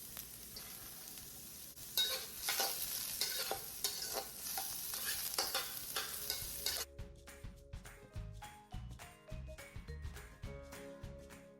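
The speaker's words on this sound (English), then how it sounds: "in a screaming hot wok or a large frying pan, add a couple drizzles of avocado oil and begin sauteing your yellow onions" Yellow onions, scallion whites and carrots fry in avocado oil in a very hot wok, with a loud continuous sizzle and stirring scrapes that give way to rhythmic clanks and taps.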